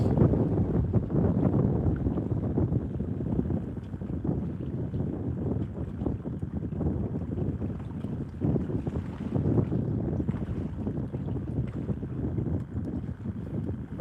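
Cold wind buffeting a fishing boat, a steady loud rush and roar of gusts continuing throughout, close and unbroken with no talk.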